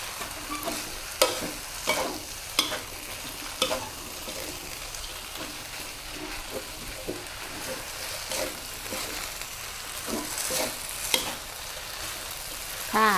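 Vegetarian pad see ew rice noodles with tofu and vegetables stir-fried in a pan, a steady sizzle broken by repeated scraping and tossing strokes of a spatula at an uneven rhythm, close and continuous.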